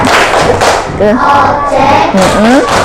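Indonesian schoolchildren in a classroom perform a rhythmic clapping chant, loud and close. Hand claps come in short, driving bursts mixed with voices chanting together.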